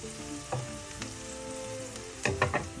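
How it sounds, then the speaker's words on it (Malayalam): Onions stir-fried with salt in a pan for a snow pea thoran sizzle steadily, with a few louder bursts of scraping and stirring near the end; no voices. "എല്ലാം കൂടെ ഒന്ന് മിക്സ് ചെയ്യാം. സവാളയൊക്കെ ഒന്ന് വാടട്ടെ."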